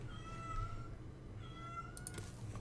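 A domestic cat meows twice indoors, two drawn-out, moderately close calls separated by a short pause, over a quiet room background with a few faint clicks and no talking.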